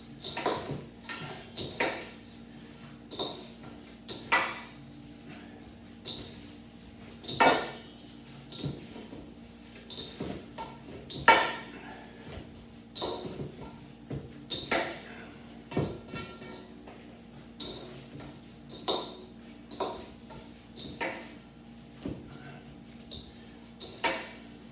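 A meatball mixture of ground meat seasoned with granulated garlic and salt is worked by hand in a bowl. Soft, irregular knocks and clinks against the bowl repeat every second or two over quiet kitchen background.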